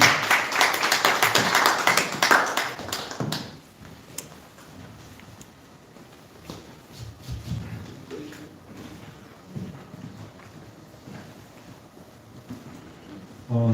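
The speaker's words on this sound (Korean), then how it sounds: "이런 박수로 맞아주시면 감사하겠습니다" An audience applauds at a lecture on church budgeting and settlement, a burst of clapping for the first few seconds that then fades into quiet room noise with scattered soft sounds.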